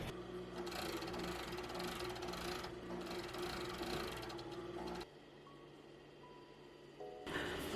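A sewing machine runs in long steady bursts while stitching the side seams of an activewear yoga unitard, with quieter gaps between runs.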